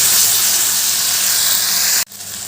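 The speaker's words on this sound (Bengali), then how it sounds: "মিক্সির বাটিটা ধুয়ে একটু জল দিয়ে দিলাম যাতে মশলাটা তলায় না লেগে যায় ভালো করে কষিয়ে নেবো" Spice paste sautés in a pan with a splash of water, giving a steady loud hiss and sizzle that cuts off sharply near the end, then returns more quietly.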